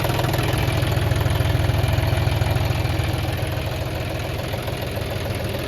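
A John Deere or Kubota tractor's diesel engine idles steadily nearby, a low rumbling drone with constant vibration and no voices.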